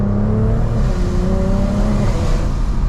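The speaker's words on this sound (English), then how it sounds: "It's like it's supercharged but turbocharged at the same time." A single-turbo BMW 335is accelerates hard under way, its engine a loud, steady rising drone with layered harmonics climbing in pitch, heard close from inside the car with no talk.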